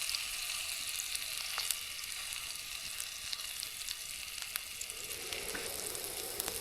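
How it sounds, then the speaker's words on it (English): An onion fries on a camp stove while cooking a bacon cheeseburger outdoors, a steady dense sizzle with scattered pops and crackles, close and even throughout, no talking. "Crank up the heat on this onion."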